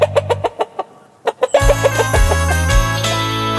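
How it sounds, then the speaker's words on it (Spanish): A cartoon hen in a Spanish-language children's farm-animal song gives a quick run of short, evenly spaced clucks, pauses briefly, clucks again, and is then covered by loud, bright music. "La gallina hace co co."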